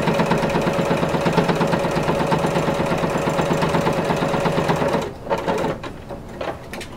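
A sewing machine stitches corset bone casings in a fast, steady, close-up run that stops abruptly near the end, leaving a few quieter handling noises.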